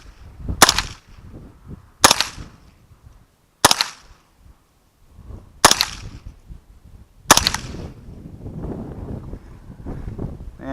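Five sharp .22 rifle shots spaced a couple of seconds apart, each a loud crack with a ringing metallic report from a steel dueling tree target about 25 feet away, with wind noise outdoors.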